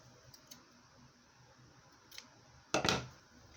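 Scissors snip through embroidery thread in a single short, close cut, preceded by a few faint ticks in a quiet room.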